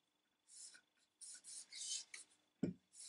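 Wet cloth rubbed in bursts over a wooden gun stock being refinished, giving soft rasping strokes with short pauses and one sharp knock near the end, quiet and close.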